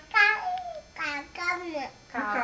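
A young child imitates a cat's meow, voicing four drawn-out, rising-and-falling meow sounds one after another, close and clear, with short pauses between them.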